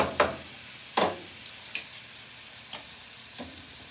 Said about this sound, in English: So as we cook the pasta, we're browning the bacon.